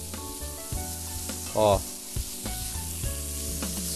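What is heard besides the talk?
diced bacon frying in a pot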